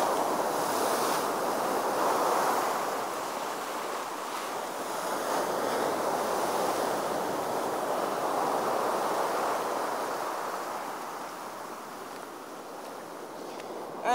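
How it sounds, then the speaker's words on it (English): Sea waves wash and splash continuously against the shore on a Spanish coast, a broad steady roar with gentle swells, mixed with wind buffeting the microphone and no talk. "To see the sea, and to see the waves splashing"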